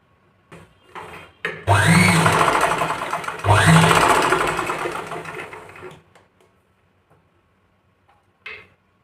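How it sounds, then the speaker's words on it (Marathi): A sewing machine stitches along a marked blouse dart in a home tailoring class, with two loud bursts of steady whirring and a brief click afterward. "मार्किंगवरूनच आपल्याला या डाचावरती शिलाई मारून घ्यायची आहे."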